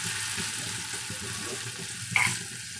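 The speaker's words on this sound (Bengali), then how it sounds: "ভালো করে দেখো মশলাগুলো আমি কষিয়ে নিচ্ছি।" Spices with ginger-garlic paste fry over a medium flame for a fish curry, giving a steady, even sizzling hiss close by, with one brief sharper clink near the end and no voices.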